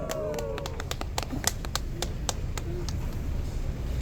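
Scattered clapping from a crowd at an outdoor street protest rally in Busan, sharp separate claps spread unevenly over a low rumbling background, fairly faint and thinning out toward the end.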